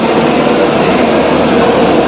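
Loud, steady rumble and roar of the Devagiri Express, train no. 17057, at a railway station near its general coach, continuous for two seconds with no voices.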